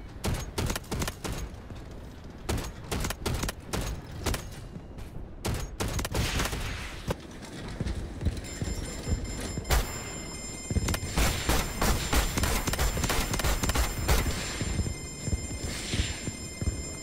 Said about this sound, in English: I'm doing what I can to just shoot this building over and over again